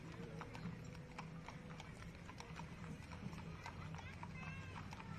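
Horses from the Hawaii Horse Owners Association clip-clop along a street in a Veterans Day parade in Hilo, Hawaii, a steady run of hoof strikes on pavement under crowd murmur and a voice talking.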